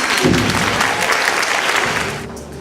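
Audience applauding after a presentation, a burst of loud continuous clapping that fades out near the end.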